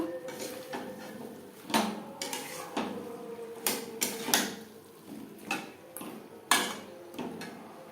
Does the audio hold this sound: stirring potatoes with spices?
yes